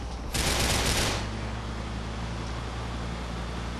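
Gunfire during a police chase in Grand Theft Auto IV. A dense burst of rapid shots sounds loud and close, then fades within a second into a steady rumble of engine and road noise.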